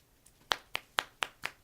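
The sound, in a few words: hand clapping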